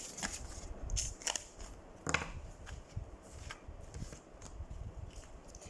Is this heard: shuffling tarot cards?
yes